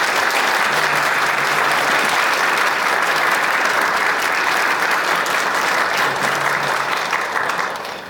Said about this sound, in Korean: 환영의 박수를 보내주시면